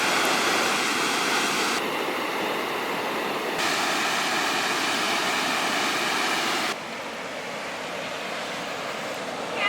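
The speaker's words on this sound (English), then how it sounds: "Just remarking on the violent and scary nature of these waterfalls" Violent waterfalls at Niagara Falls roar in a dense, constant rush of crashing water, loud and near, with the level shifting abruptly a few times.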